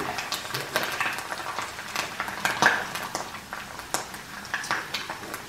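A hamburger patty frying in a pan on the stove, with a steady crackling sizzle under scattered clinks of utensils and kitchenware, moderately loud and close throughout.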